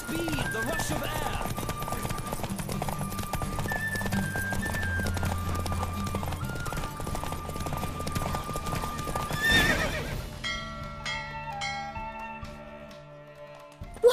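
A horse gallops hard in a race in the video game The Witcher 3, its fast rhythmic hoofbeats running under game music and excited spoken lines, ending with a whinny and quieter music.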